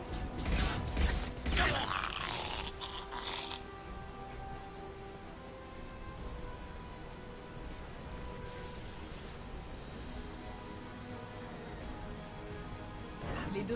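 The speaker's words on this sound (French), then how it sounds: "Les deux ventilateurs sont activés." Two ventilation fans starting up in World of Warcraft, with loud mechanical clanks and creaks at first, settling into a steady low whirring hum that continues on its own.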